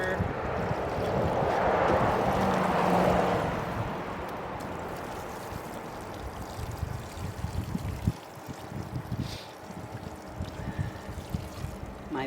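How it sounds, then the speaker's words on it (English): Water poured onto garden plants, snapdragons among them, during watering, a steady close splashing and trickling that is strongest early on and then eases into quieter dribbling with small knocks. "I'll just finish watering these"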